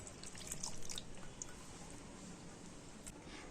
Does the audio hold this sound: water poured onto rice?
yes